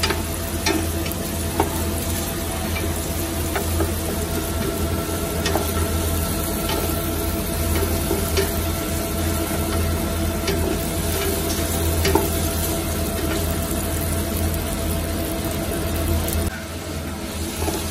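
Tomato, onion and garlic sauté together in a hot pan for Filipino chicken tinola, giving a continuous sizzle with occasional stirring scrapes and clicks, steady and close without talk.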